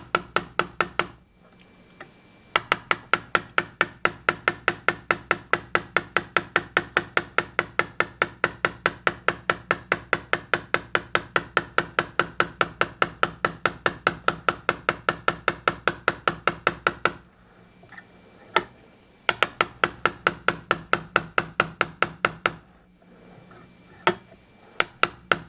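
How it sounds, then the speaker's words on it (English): A small hammer taps a bush into an SU HIF44 carburetor on a Classic Mini Turbo, a long run of rapid, even, sharp metallic taps broken by two short pauses. "It doesn't take much, so we're only using a small hammer. You don't need to whack it in, just a gentle tap"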